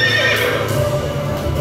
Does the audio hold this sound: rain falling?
no